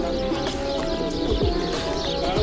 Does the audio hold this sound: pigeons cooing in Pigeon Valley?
yes